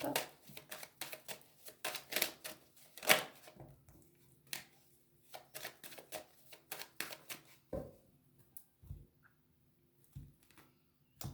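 A deck of cards being cut and shuffled, with repeated riffling bursts and soft slaps in an irregular rhythm, close and fairly quiet, with brief pauses between bursts.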